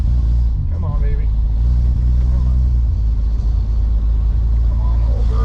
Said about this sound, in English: Everybody's looking at me all funny because my car sounds like it's about to conk out.